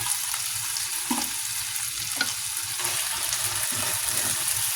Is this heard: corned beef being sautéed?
yes